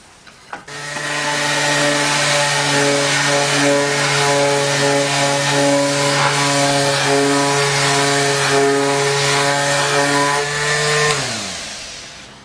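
A power saw with a 150-tooth fine-cut blade whines steadily through hardwood for about ten seconds, loud and close, with a strong harmonic drone that winds down at the end.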